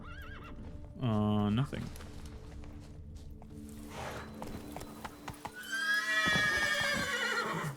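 A horse called Roach neighs loudly in The Witcher 3: Blood and Wine, a clear harmonic whinny about a second long, followed by snorting, shuffling hooves and a second high, wavering neigh, with game ambience underneath.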